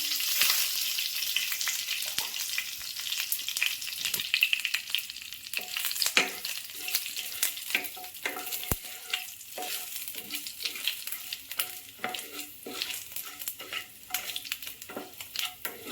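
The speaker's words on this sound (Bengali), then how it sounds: "তেল গরম হয়ে গেছে, এখন আমি তেজপাতা দিয়ে দিলাম, পাঁচফোড়নও দিয়ে দিলাম" Bay leaf and panch phoron sizzle steadily in hot oil, a continuous bright crackle with occasional scrapes of a spoon stirring the pan, close and even throughout with no voices.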